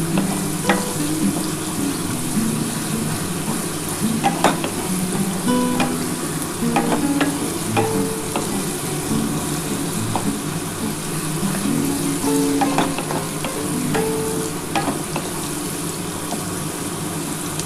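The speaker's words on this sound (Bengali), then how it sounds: "খুব ভালো করে পেঁয়াজটা ভেজে নিতে হবে" Onions frying in a pan for a spicy Bombay duck dish, a steady dense sizzle with scattered crackles and occasional stirring scrapes, close and continuous throughout with no talking.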